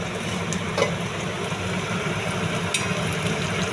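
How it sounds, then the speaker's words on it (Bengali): Crushed ginger and garlic fry in oil with a continuous soft sizzle and faint crackles, a low rumble running underneath throughout. "এবার আদা রসুনটাকে আমি ভালো করে একটু ফ্রাই করে নেব"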